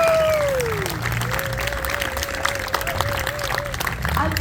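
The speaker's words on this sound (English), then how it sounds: "Give yourselves, please, a huge round of applause for all of you." Audience applause at an outdoor mural unveiling honoring a white peacock, a steady wash of clapping from a crowd running throughout, with a brief voice-like tone drifting over it.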